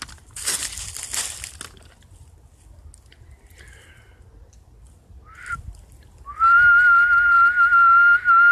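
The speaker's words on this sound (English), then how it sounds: "And I feel like whistling, so here goes a whistle." A person whistles a tune outdoors on a lake trail, starting with scattered faint notes and rustling, then a loud sustained whistle close to the microphone near the end.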